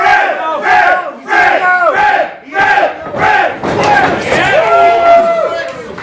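A wrestling arena crowd at a Fred Yehi vs. Davey Richards match chants and shouts in loud rhythmic bursts, rising into a sustained roar with whistles near the end.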